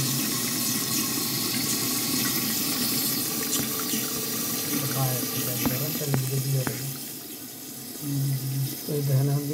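Water running steadily from the inlet into a toilet flush tank, a continuous close gushing rush lasting throughout, with a voice over it near the end.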